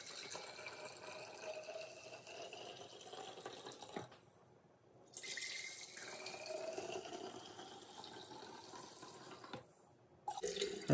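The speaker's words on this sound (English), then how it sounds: "we're gonna pour this into our jars." Homemade turkey carcass stock is poured into jars, a faint, steady liquid trickle with brief pauses, heard alone and close by.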